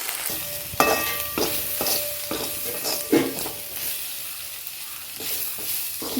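Spices and curry leaves sizzle in a pan for Kerala fish curry. A spoon stirs and scrapes through them in irregular strokes over a steady frying hiss.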